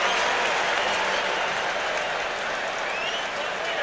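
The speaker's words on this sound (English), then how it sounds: "Boy, this crowd is unbelievable." A football stadium crowd at an NFL wild card playoff game, Broncos at Colts, roars and claps in a dense, loud, sustained wall of noise, with a broadcaster's voice faintly underneath.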